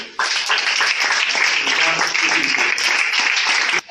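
A church congregation claps and cheers in praise during a Christian worship service, the steady applause and scattered voices filling the room at close range for a few seconds before stopping abruptly.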